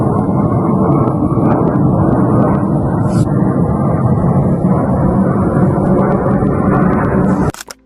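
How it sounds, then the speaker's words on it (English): Several Polish NATO fighter jets pass over Lublin in eastern Poland at night, giving a loud, continuous, broadband jet roar that holds steady for about seven seconds and then cuts off abruptly. "several Polish NATO fighter jets heard tonight over Lublin in eastern Poland"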